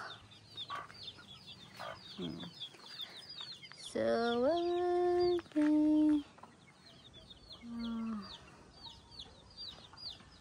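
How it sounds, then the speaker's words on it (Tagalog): Chickens cluck at a rural Philippine house with bamboo walls, short repeated calls near and far, while a few loud sustained tonal sounds cut in and a voice speaks briefly. "Yung manok."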